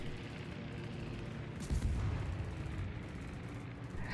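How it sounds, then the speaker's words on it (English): Rockets burst in a World of Warships naval battle, with a deep boom rising out of a constant low rumble of battle noise partway through, fairly muffled and steady throughout. "Dodging these rockets pretty well."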